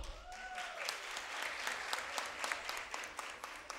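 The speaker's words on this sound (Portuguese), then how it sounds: "Aplausos." An audience at a formal awards session in a municipal chamber claps steadily, a close, continuous patter of many hands with sharp individual claps standing out.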